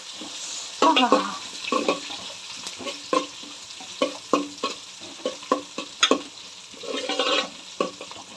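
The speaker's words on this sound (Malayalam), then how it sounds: "കറിവേപ്പിലയും കൂടി ഇട്ട് കൊടുക്കാം എല്ലാം കിടക്കട്ടെന്നേ തണ്ടും ഇലയും എല്ലാം ഇളകിക്കൊണ്ടേയിരിക്കുക" Curry leaves sizzling in a pan for a Kerala-style tuna curry with kudampuli, with repeated scraping stirs, clinks and crackles over a steady frying hiss.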